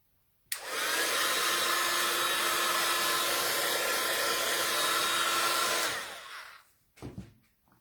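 A hair dryer blows steadily and loudly for about five seconds while drying the edges of a handmade card, then cuts off, followed by a brief clunk.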